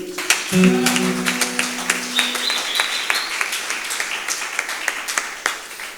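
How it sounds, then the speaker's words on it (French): A church congregation applauds with sustained, dense clapping, joined briefly by a held instrumental chord and a few voices. "on acclame encore le Seigneur."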